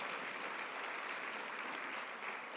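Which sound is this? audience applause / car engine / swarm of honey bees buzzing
audience applause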